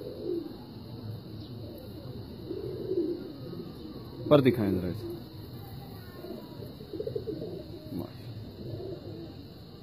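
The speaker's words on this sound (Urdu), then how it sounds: "آپ دیکھ سکتے ہیں یہ مصر کبوتر" Egyptian (Misri) pigeons kept in pairs in a small coop coo low and repeatedly nearby, with a brief sharp flutter midway, while someone talks over them.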